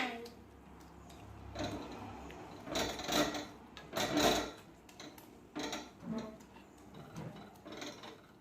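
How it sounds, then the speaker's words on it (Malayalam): A coconut-shell ladle mashing a thick chutney-like curry in a pot, giving soft scraping and knocking strokes in an uneven rhythm, with a voice talking throughout. "ഇനി ഇതൊന്ന് ചിരട്ടക്കയിൽ ഉപയോഗിച്ചിട്ട് നന്നായിട്ടൊന്ന് ഉടച്ചു കൊടുക്കുകയാണ്."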